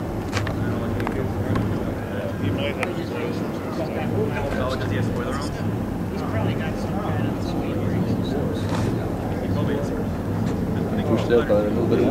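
A T-45 Swallow model jet aircraft coming in to land on its maiden flight, a steady whooshing engine drone mixed with wind noise, heard under people talking nearby outdoors.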